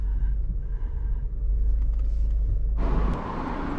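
A red Fiat Pulse Audace 1.0 turbo (2023) rumbles at low speed while pulling into a parking space. The deep engine drone holds steady, then a sudden broadband hiss cuts in near the end and the rumble drops away.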